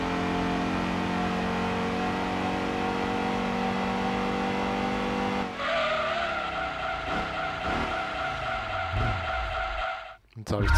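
A race car in Gran Turismo 2 drones at high revs, then brakes hard into a long, loud tire squeal and skid while the engine pitch falls away, ending in a brief drop.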